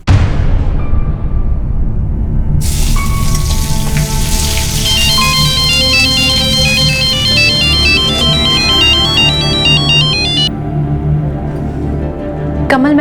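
A phone rings loudly with a melodic electronic ringtone in a Hindi crime drama scene, a repeating chiming tune over a soft background bed, continuing for several seconds.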